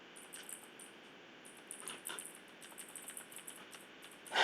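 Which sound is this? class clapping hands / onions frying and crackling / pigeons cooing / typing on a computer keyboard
typing on a computer keyboard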